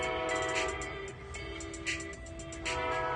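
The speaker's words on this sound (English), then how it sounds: "there's a train coming by" A train passes near a workplace with a loud, continuous rumble, sustained horn-like tones and brief brighter bursts, filling the whole moment without any speech.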